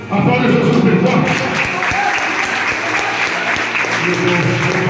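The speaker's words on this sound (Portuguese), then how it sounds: "Aplauda Jesus, bem forte" A church congregation clapping loudly for Jesus during a fervent Portuguese-language service: strong, sustained applause with sharp individual claps near the microphone and voices mixed in beneath.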